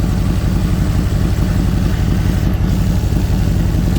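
A 2001 Harley-Davidson Road King with a Mikuni carburetor idles just after startup at about 1,300 RPM, a loud, close, steady low rumble that throbs evenly throughout.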